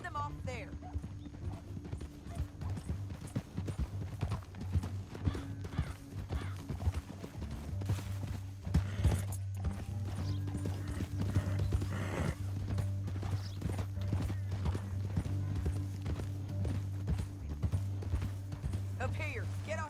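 Horses gallop in Red Dead Redemption 2, a rapid, steady clip-clop of hooves that runs nearly the whole time, with an occasional whinny, under a music score and characters' voices.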